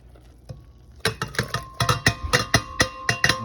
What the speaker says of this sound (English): a little stir here.